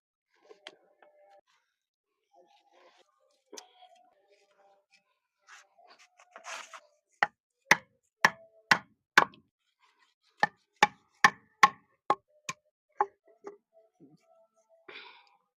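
A large fish is cut up by hand, a run of about a dozen sharp, evenly spaced chops following scattered quieter knocks and scrapes, each stroke close and crisp.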